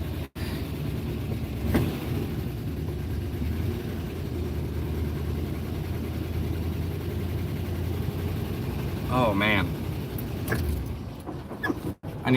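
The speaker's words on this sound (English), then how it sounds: "That engine sounds rough." A rough-running car engine idles steadily with a low, uneven rumble throughout, and a brief higher whine comes through near the end.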